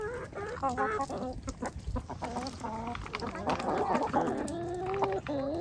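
Chickens being merged into a flock cluck and squawk continuously at close range, with overlapping calls from several birds and faint voices underneath.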